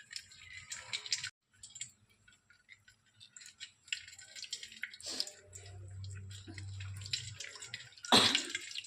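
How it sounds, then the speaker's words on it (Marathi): Water is wrung from boiled ash gourd twisted in a cloth, producing intermittent drips, splashes and wet squelching in short bursts, with a sharper splash near the end. "असं त्याला गोल गोल फिरून त्याचं जेवढं त्याच्यामध्ये पाणी आहे ते काढून घ्यायचं"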